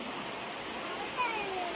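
Heavy rain pours steadily during a festive home gathering, a dense even hiss that stays loud for the whole moment, with faint high whistling or voices showing briefly near the end.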